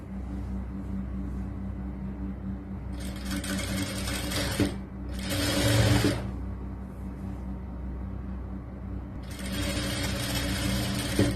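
Sewing machine stitching the lining of a churidar top, a steady close motor hum with three bursts of rapid stitching, the longest near the end.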